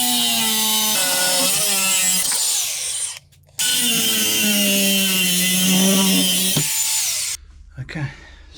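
A power saw cuts a small piece of steel, whining loudly and steadily at close range, pausing briefly once before cutting on, then stopping.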